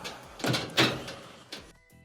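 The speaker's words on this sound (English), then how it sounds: "We'll go ahead and close the door." A clothes dryer door is swung shut with a few close thuds and a final firm clunk, followed by quiet.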